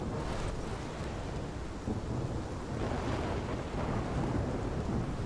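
A thunderstorm in the video game Life is Strange roars as a dense, continuous wash of heavy rain, wind and rumbling thunder, loud and unbroken throughout with no voices.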